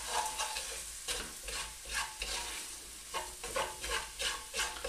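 Vegetables frying in oil with a heaped spoonful of paprika are stirred in a pan, giving a soft steady sizzle broken by rhythmic scraping strokes, close and moderately quiet.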